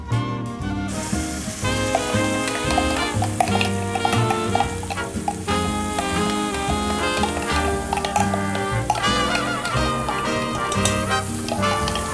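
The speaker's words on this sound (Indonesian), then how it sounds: "sekarang kita akan mulai proses menumis bumbu" Spice paste for urap, an Indonesian vegetable dish, sautéing in a pan with a steady, continuous sizzle and occasional stirring scrapes, backed by a busy layer of tonal sound throughout.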